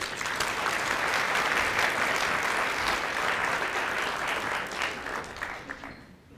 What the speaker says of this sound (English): So please give yourselves a round of applause and help me welcome the mayor